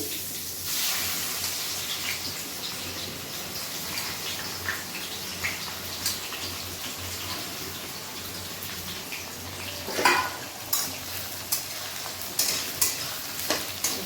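Onions sizzle steadily in a pan for chicken masala, a continuous frying hiss with occasional soft clicks and scrapes of stirring, growing more frequent near the end.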